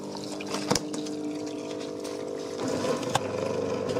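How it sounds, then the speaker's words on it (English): A Zanussi dishwasher drains water in a steady watery rushing and gurgling hum, with a couple of brief clunks, the flow growing slightly louder toward the end. "The machine started draining the water"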